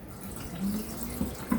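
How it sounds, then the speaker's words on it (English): Water pours into a food processor holding a curry mixture with full-fat milk, a soft, close trickle with small splashes toward the end, fairly quiet and without talk. "I'm going to add in some water,"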